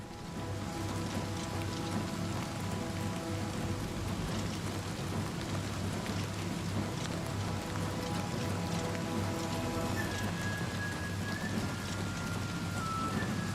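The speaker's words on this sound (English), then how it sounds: "Why do I hear raining?" Steady rain falls in Oblivion Remastered, a dense continuous hiss with a low rumbling undertone like distant thunder, even and unbroken throughout.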